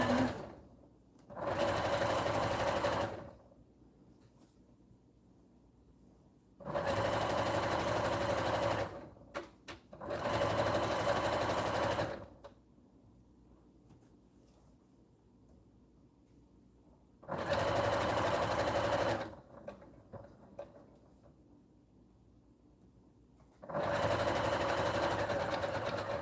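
Five separate bursts from a sewing machine, each a couple of seconds of close, even whirring with quiet gaps between, and no talk over the stitching.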